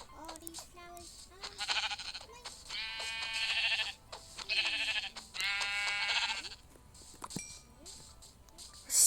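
Sheep bleat repeatedly in the Minecraft video game, several loud drawn-out calls spaced through the passage with game sounds around them and a person talking in between.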